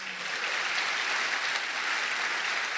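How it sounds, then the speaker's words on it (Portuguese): Church congregation applauding together, a steady, dense wash of clapping that holds evenly from start to finish with no voices rising above it. "Vamos aplaudir o Senhor por essa verdade?"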